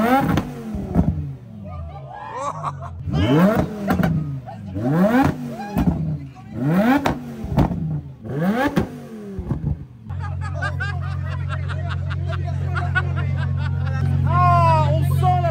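A BMW E21 with a swapped V10 engine in flame mode revs in about seven sharp, loud bursts, each climbing and falling back. A steady, throbbing engine drone follows. People talk nearby throughout.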